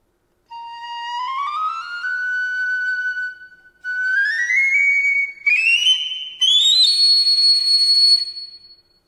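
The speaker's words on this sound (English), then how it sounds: "The piccolo." A piccolo plays bright, high, pure tones that glide steadily upward in separate phrases with short pauses between them, loud, close and solo.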